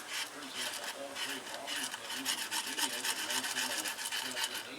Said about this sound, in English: Scrape it.